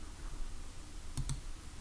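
Two quick, crisp computer mouse clicks in close succession over a steady background hiss, recorded close up at a desk while building an HTML file.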